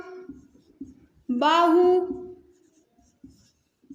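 Writing on a board during a maths lesson on triangles, faint scattered strokes, briefly overlapped by a drawn-out voice in the middle.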